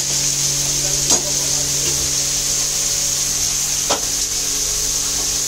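Lightly boiled vegetables stir-fried with rice and capsicum in a pan, giving a steady close sizzle with a couple of faint scrapes of the spatula, and no talking.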